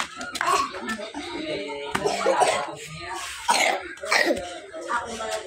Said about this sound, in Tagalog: So inuubo ako.